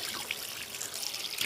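Water fed from a waterfall runs steadily at a sink or tap, a close, continuous bright hiss with light splashing and no pauses.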